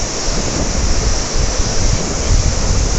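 Water gushes forcefully from Somasilla Dam in a loud, unbroken roar of rushing flow, heard close and alone without speech.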